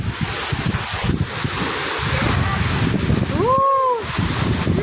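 Strong typhoon wind roars and buffets the microphone in continuous gusts, with rustling beneath and a brief rising call near the end.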